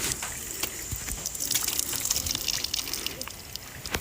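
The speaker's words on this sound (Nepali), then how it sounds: "पानी आउँदैछ यस्तो" Drinking water runs from a village tap on a footpath in Ghoretar, Hatuwagadhi, Nepal, giving a steady outdoor trickle and splash that swells in the middle and continues throughout, with faint background sounds.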